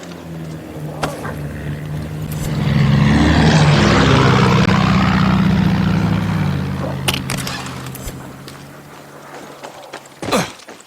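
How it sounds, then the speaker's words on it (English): Helicopter in the video game Far Cry 6, a steady low rotor and engine drone that swells louder in the middle as it passes close, then fades under scattered game effects and a few sharp clicks near the end. "The helicopter didn't spot us."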